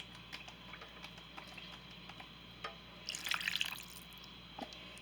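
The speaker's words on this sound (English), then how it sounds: "And I'm going to pour it in here." Water mixed with organic carnitas slow-cook sauce is poured from a pouch into a slow cooker with chicken, a faint trickling splash that swells briefly, amid soft drips and clicks.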